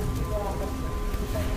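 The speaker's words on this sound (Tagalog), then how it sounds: "maingay pa dito yung mga patak ng ulan" Light rain pattering at night outside the Manila Film Center, a faint steady patter of drops with a thin tonal hum underneath.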